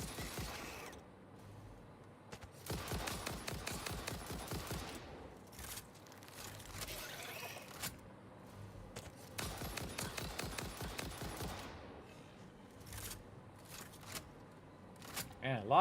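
Rapid bursts of gunfire aimed at an enemy in the video game Satisfactory, several loud volleys repeating across the span with short pauses between them, over steady game background noise.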